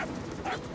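A small puppy whimpers and yips in Metal Gear Solid V, a short, soft whine that rises briefly midway, close and alone.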